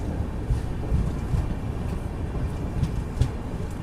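Sevan Hills SF Express passenger train rolls on after leaving Pakala Junction, a steady rumble of wheels on rails with faint clickety-clack, heard close from on board without talk.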